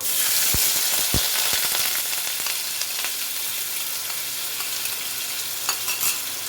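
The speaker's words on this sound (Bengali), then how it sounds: "প্রথমে আমি এই কুচনো পেঁয়াজটা দিয়ে দেবো।" Chopped onion hits hot oil already spiced with whole cumin, dry red chilli and bay leaf, giving a loud close sizzle with a few sharp knocks early on, then a steady frying hiss.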